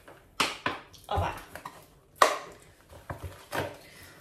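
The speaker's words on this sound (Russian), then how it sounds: "Нарезаю, в общем, я ее небольшими кусочками." Several sharp knife strikes on a cutting board while cutting chicken fillet into small pieces, irregular and close, with quieter cutting sounds between.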